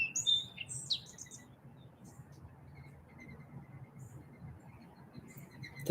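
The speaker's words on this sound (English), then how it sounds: "The beauty around us in the sound of birds" Small birds chirp and tweet outdoors in short, faint bursts near the start, over low background rumble and a soft speaking voice.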